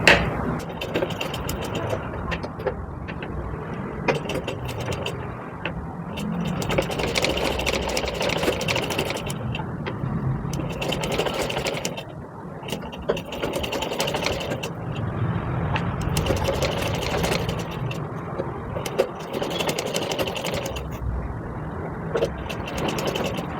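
A sewing machine stitches a frock strip folded a quarter inch, its motor whirring in steady runs with brief pauses in between, close and fairly loud with no talking.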